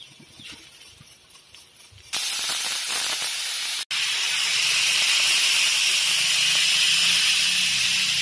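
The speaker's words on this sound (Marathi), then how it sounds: "हे बघा एक शिट्टी झाली आहे" A pressure cooker on a gas stove lets off its whistle, bursting into a loud, sustained steam hiss after a quieter moment, with a brief break partway through before the jet resumes, close by and alone.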